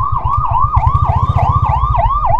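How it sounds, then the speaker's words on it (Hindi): Ambulance siren on an empty Delhi street during lockdown, a loud, close wailing yelp that repeats in rapid rising-and-falling cycles over a pulsing low engine-like throb. "पीछे एम्बुलेंस आ रही है"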